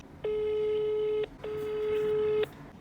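Two steady, even telephone ringing tones, each lasting about a second with a short gap between, over faint background hiss.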